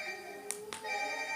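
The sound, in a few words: mobile phone ringing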